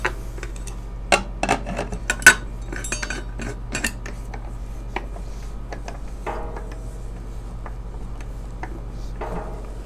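A pot of mutton with chopped onion is covered, heard as a series of close metallic clinks and taps from the lid and utensils, scattered over several seconds and then fading to quiet.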